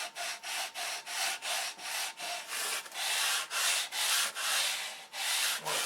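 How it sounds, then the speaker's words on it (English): Wood being sanded with a sanding dowel in rapid back-and-forth strokes, roughly two per second, a close, rhythmic raspy rub that grows a little louder and fuller partway through, with no talking. "And now I have my sanding dowel."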